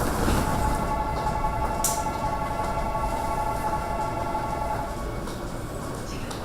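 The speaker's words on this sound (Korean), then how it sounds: "열차 진입 신호음이 울리고 열차가 들어옵니다." A Seoul Line 9 subway train pulls into crowded Noryangjin station at morning rush hour, a loud steady rumble of wheels and motors with a sustained tonal hum, the roar easing slightly toward the end.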